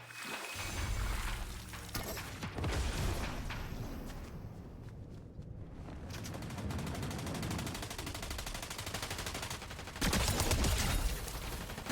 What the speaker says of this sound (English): we got some more gunfire over this way